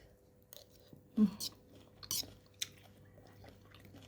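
Close, quiet chewing of homemade Thai beef larb, a few soft bites and moist crunches spread over a few seconds with no talking.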